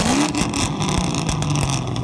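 A 2005-2009 Ford Mustang with a Borla axle-back exhaust, producing a brief, deep, steady engine rumble with a slight rise in pitch at the start.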